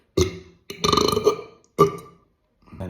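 A man burps on command, three loud separate belches with short pauses between them, the middle one long and rumbling, with no other sound around them.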